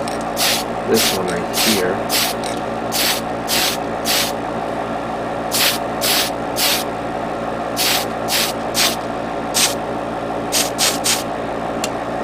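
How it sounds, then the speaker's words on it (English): Repeated short bursts of aerosol spray paint on Gundam Barbatos 1/100 Master Grade model kit parts, about a dozen hisses of one to two seconds each over a steady motor hum, with someone briefly speaking. "spray paint the barrel."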